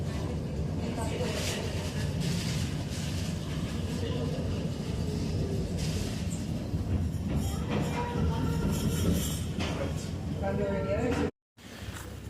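A mountain railway train pulls into the Chamonix station in the French Alps, a continuous loud rumble of wheels and carriages with squealing, rising brake tones near the end, under faint background voices before a brief dropout.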